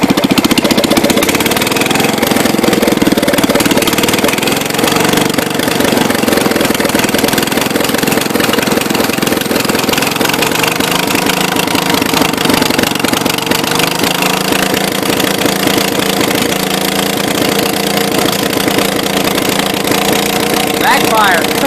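John Deere 210 garden tractor with a swapped-in Kohler K301 engine idling with no muffler fitted, a loud, steady, raw mechanical rumble running continuously throughout, with a voice talking over it.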